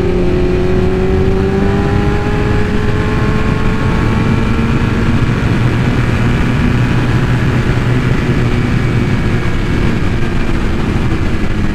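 A strapped and lowered 2021 BMW S1000RR superbike racing, its engine screaming at high revs as gears climb, loud and continuous throughout with no talk.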